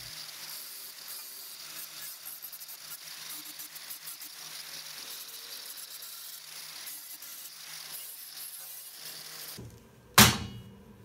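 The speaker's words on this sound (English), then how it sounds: "Use the angle grinder with flap disc to clean all burrs." Angle grinder fitted with a flap disc cleaning burrs off cut edges, a steady abrasive whir running close and even for about ten seconds before a sharp loud burst at the end.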